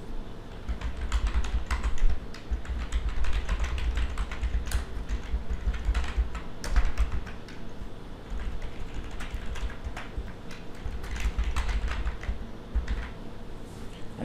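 Steady, fast typing on a computer keyboard while registration details are entered, the close key clicks running continuously with small pauses and no talk.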